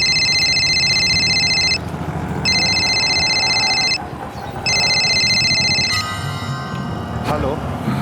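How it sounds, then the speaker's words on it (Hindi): A telephone rings loudly in three long electronic bursts separated by short gaps, over a steady background of music in a TV crime drama scene. "मेरे पास निहारिका का फोन आ गया"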